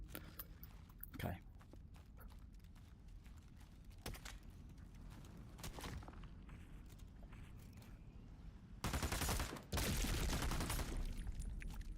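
Sniper gunfire in the video game Into the Radius 2, a few sharp isolated shots early on, then a loud burst of noisy blasts near the end over a steady game background.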